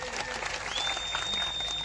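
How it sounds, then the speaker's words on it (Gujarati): At a political rally in Gujarat, a crowd gives a steady, dense round of applause for the police officers, fairly faint and distant throughout. "આપણે બધા માટે એકવાર જોરદાર તાળીઓ પાડી લઈશું."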